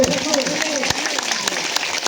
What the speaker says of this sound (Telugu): అందరూ కూడా చప్పట్లు